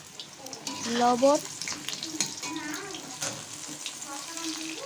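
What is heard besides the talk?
potatoes frying in the wok used to fry kokila fish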